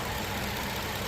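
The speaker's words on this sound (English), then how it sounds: "you can hear it idling very smoothly" Range Rover Velar P380 R-Dynamic idling under the open hood, a steady, smooth mid-pitched engine hum held at close range for about a second.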